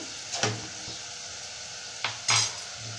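Tempering spices fry in hot oil for a cucumber and tomato dal. A soft sizzle runs underneath while a spoon knocks and scrapes against the pan in a few short, sharp clinks.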